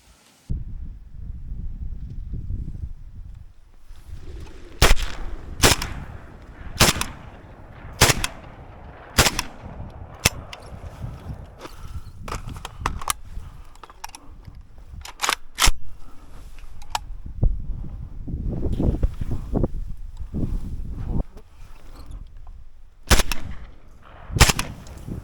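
Shotguns fire while hunting sea ducks, pintails and teals over a lake in Yakutia: a long series of sharp, loud reports, some spaced and some in quick pairs, with rumbling echoes between them.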